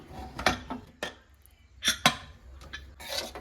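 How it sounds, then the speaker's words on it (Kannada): Metal clanks and scrapes as a pressure cooker lid is opened after cooking chicken biryani, a few sharp knocks spread over a few seconds, close and moderately loud with no talking. "ಇವಾಗ ನಾನು ಕುಕ್ಕರ್ನ ಓಪನ್ ಮಾಡ್ತೀನಿ"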